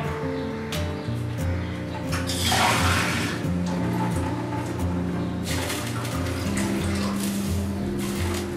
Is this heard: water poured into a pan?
yes